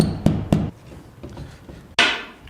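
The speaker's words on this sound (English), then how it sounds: "Not only are these nails deep, I think they're just old. I can't get a grip on them with a hammer." A hammer works old, deeply set nails out of scrap wood: two sharp close knocks, softer scraping and tapping, then another heavy strike that rings out.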